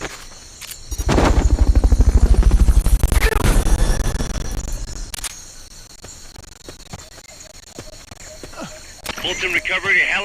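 A Fulton recovery helicopter in the video game Metal Gear Solid: Peace Walker thumps loudly with rapid rotor beats for several seconds, then fades under scattered game effects and footsteps.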